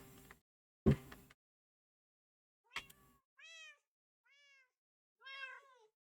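Cats meowing in a Minecraft-style video game cat adoption build: three distinct meows in the latter half, each clear and close, after a couple of short clicks and thumps, with no talking.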